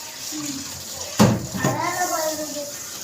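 Water splashes and pours as something is rinsed, with a sudden loud gush partway through, while people talk nearby.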